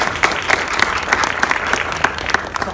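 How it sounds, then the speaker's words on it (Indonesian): Applause rings out at an awards dinner for New Crown Star Directors in Surabaya, with a large crowd clapping loudly and continuously, with a few sharp rhythmic claps standing out in the texture. "Tepukan sekali lagi untuk 7 orang ini."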